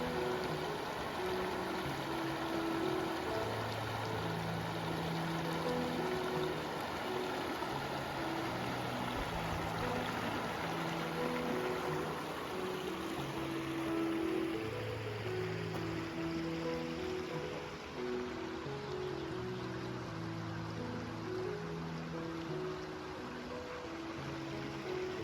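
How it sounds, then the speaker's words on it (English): Water rushes steadily over rocks in a broad, continuous wash, with faint tonal hums and patches shifting beneath it throughout. "You just love the sound of running water over rocks."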